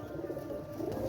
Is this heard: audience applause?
no